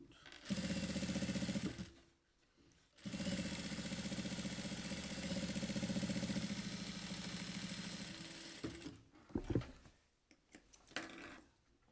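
Sewing machine topstitching a seam on a child's fabric waist pouch, running in steady humming bursts with short pauses between, close and alone.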